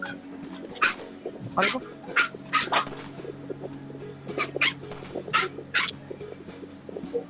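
A dog in the Roblox game Color in Question barks in a run of short, sharp yips, roughly eight evenly spaced across the stretch, over constant game noise while players talk.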